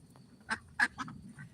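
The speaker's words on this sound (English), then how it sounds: "And Speckles, our oldest duck." Speckles, an older duck, quacks several times in short nasal bursts with small gaps between them, close and fairly clear against a quiet background.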